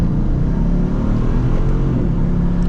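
Exhaust of a Mercedes AMG GTC, a steady loud, deep rumble heard from inside the low car, holding fairly even throughout with no voices.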